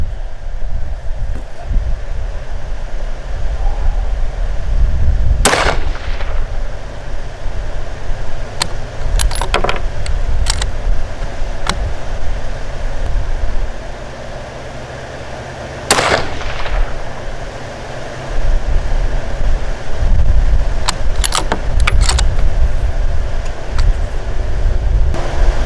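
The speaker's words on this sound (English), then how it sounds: "So let's shoot this rifle a few times" Three sharp rifle shots of Hornady Varmint Express 55 grain ammunition crack out at spaced intervals during zeroing at 200 yards, loud and close over outdoor wind noise.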